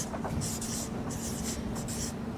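Marker strokes scratch across a board in short bursts, several quick squeaky lines with brief pauses between them, close and clear over a low background hum, written during a coffee roasting lesson.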